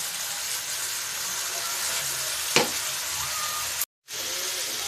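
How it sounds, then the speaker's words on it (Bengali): Spice paste frying with onions in a pan makes an even, continuous hiss, broken by one sharp scrape partway through and a brief cut to silence near the end. "এবার এই মশলাটাকে একটু ভালো মতো কষিয়ে নিয়ে তারপরে ফিরে আসছি"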